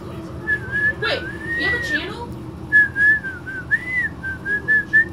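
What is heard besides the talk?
person whistling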